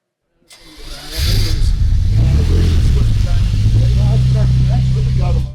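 A Bugatti quad-turbo engine cranks and fires up with a rising roar, then holds a loud, steady rev and idle rumble close by. A person talks over it.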